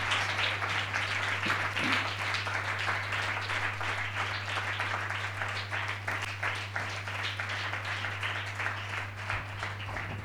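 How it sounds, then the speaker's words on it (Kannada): A church congregation applauds to welcome a pastor to the dais at a morning service, a steady even patter of clapping running throughout over a constant low electrical hum. "ಚಪ್ಪಾಳೆ ತಟ್ಟುತ್ತಾ ನಾವು ಸ್ವಾಗತಿಸೋಣ ಈ ಬೆಳಗಿನ ಸಮಯದಲ್ಲಿ"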